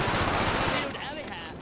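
Gunfire in Call of Duty: Black Ops on the Wii, a fast, loud automatic burst lasting under a second that cuts off, with game sounds trailing after and a voice faintly present.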